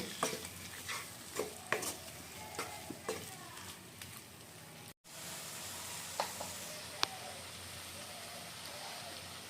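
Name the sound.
tomatoes and green chillies cooking and being stirred in a pan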